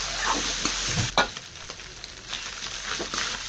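Onion, chili, garlic and coriander fry with taki fish in a pan, a steady close sizzle broken by a sharp scrape of stirring and scattered crackles throughout.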